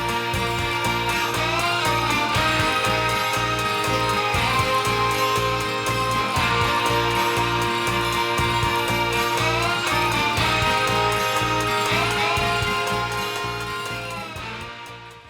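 D: An instrumental from a 1978 solo album, a steady, full rock instrumental with sustained, ringing chiming tones and layered guitars, loud and continuous throughout and fading slightly at the close.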